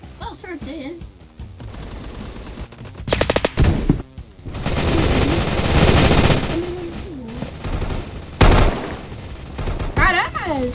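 Bursts of automatic gunfire in a Roblox shooting match rattle out loudly in several long and short volleys, mixed with game sound effects, while a voice talks between them.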